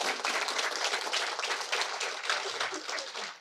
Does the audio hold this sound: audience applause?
yes